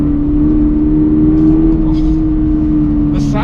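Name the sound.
Toyota GR86 sports car engine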